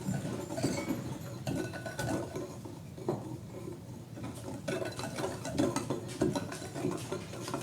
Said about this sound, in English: And a quick whisk.